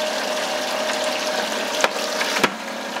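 Rapid drink chiller spinning a can in a water bath: a steady broadband whir with a motor hum runs throughout, and two sharp clicks or knocks land near the end.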